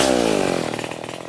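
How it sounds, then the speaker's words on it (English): A chainsaw runs loud and close while cutting on a farm plantation, its engine pitch dropping as it bites into the wood. "The work with a chainsaw is dangerous and shall only be executed by trained personnel."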